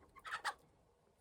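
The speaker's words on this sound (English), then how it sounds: "Those are chickens in their current enclosure." A few short clucks from chickens in their enclosure on a leased farm parcel that also raises sheep, brief and fairly close, then quiet.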